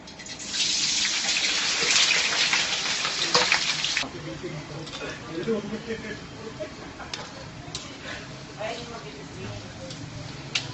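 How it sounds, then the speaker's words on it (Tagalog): Potatoes sizzling in hot cooking oil, with a loud, dense hiss when they hit the pan that settles into a quieter, steady fry with occasional clinks and stirring. "ngayon, pipirtuin na natin ang patatas"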